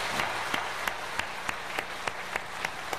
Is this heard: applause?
yes